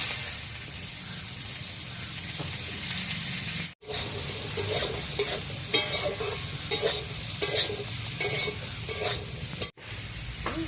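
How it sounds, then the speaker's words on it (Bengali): Mahua fruit frying in a wok of hot oil, a steady close sizzle with stirring scrapes and bubbling that runs continuously, briefly dropping out twice. "এবার আমি ওই তেলেই মহুয়া ফলটা ভেজে নেব"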